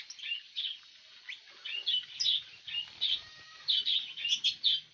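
Caged lovebirds give bright, rapid chirps and twittering calls in uneven bursts, close and fairly clear, with faint shuffling and soft bumps of the birds moving about the cage.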